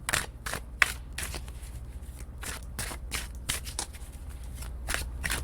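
Tarot cards riffle and slap together in repeated quick bursts, roughly a dozen brisk shuffles at close range in a quiet room, with no talking.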